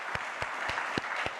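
A Korean congregation at a Sunday morning service at a church in Daegu claps together, a brief run of loud, rhythmic, evenly spaced unison claps over a bed of scattered clapping.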